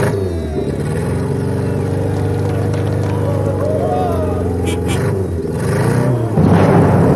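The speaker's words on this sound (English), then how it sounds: "All right, drivers, start your engines." Engines start and run at a race start for homemade walking machines in a scrapheap-building contest. There is a steady, close droning of several motors with uneven revving that swells louder at the end, while people talk over it.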